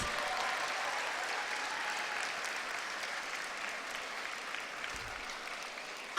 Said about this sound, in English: So a big round of applause for our teachers.